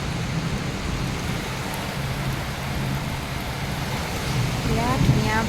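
Heavy rain pours down during a thunderstorm, a steady dense hiss that lasts the whole time. The wash grows slightly stronger toward the end, with a faint voice in the background.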